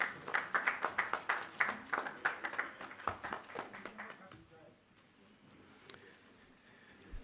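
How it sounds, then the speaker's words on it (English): Applause from a crowd, quick claps that are strong at first and then fade away, ending in quiet room noise. "A round of applause for him, please."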